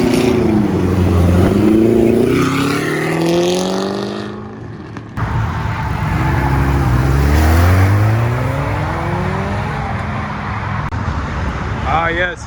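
A modified car, reportedly a boosted Honda Prelude, accelerates hard away from a Houston car meet, its engine note climbing through two loud rising revs with a brief gap between, over crowd noise and voices.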